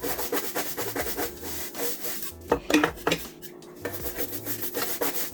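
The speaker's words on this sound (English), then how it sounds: "you're just gonna scrub the deck" Scrubbing an electric scooter's deck with a brush, a run of close rasping strokes in an uneven rhythm, with a brief louder clatter midway.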